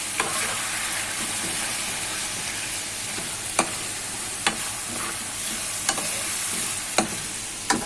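Potatoes and vegetables fry in a pan with salt, spices, garlic-ginger paste and green chillies, a steady loud sizzle running throughout while a spoon stirs and scrapes, giving sharp clicks every second or so.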